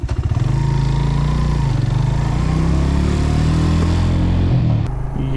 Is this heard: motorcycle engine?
yes